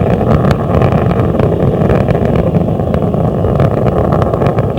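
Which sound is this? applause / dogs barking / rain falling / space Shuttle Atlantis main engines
space Shuttle Atlantis main engines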